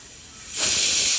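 A pressure cooker whistle shrieks as steam vents while spinach dhal cooks on the stove, starting as a soft hiss and swelling into a loud, sustained whistle for the rest of the moment.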